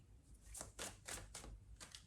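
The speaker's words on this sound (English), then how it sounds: "I'm shuffling the deck" A tarot card deck being shuffled by hand, giving a run of soft, papery riffling bursts at an irregular rhythm, close and fairly quiet with no talk.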